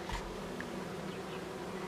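Honeybees buzz steadily around a hive colony that lost its queen, a dense continuous hum close by with no talking.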